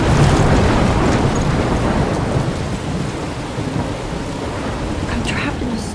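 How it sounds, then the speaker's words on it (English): Heavy rain pours in a dense, steady roar with rolling thunder during a storm in the game Life is Strange, loud and continuous for the whole stretch with no voices over it. "I'm trapped in a storm?"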